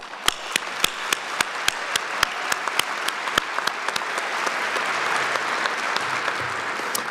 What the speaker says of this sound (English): Let's clap there too.